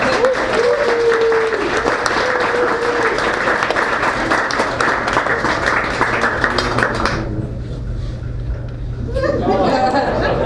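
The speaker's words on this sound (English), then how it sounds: "give a round of applause to the waitresses here" A crowd at a live show bursts into loud, sustained applause for the waitresses, with chatter and a few laughs mixed in, fading briefly near the end before rising again.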